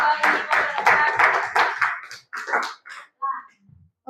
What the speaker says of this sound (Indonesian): Berikan aplaus untuk Bapak